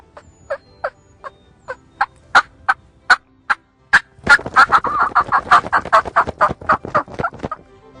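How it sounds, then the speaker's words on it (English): Quiet, evenly spaced early-morning tree yelps from a wild turkey on the roost, about a dozen soft notes in steady rhythm, then a faster, denser run of calls that grows louder. "a few tree yelps in the early morning, real quiet tree yelps"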